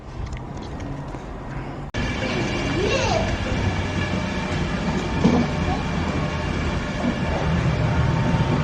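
Train at Peterborough station, heard close and loud with a continuous rumbling roar and clatter. A sharp click comes early, followed by rising whines and squeals over the passing noise.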